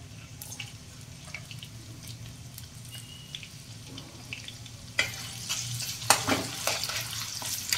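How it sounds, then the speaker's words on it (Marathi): Finely chopped onion frying in oil in a pan: a low simmering sizzle with light clinks, then a sudden louder crackling burst as the onion hits the hot oil, busy and close. "त्याच तेलामध्ये मी बारीक चिरलेला कांदा टाकते"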